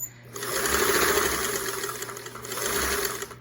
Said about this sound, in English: let me just do the straight stitch with the center needle position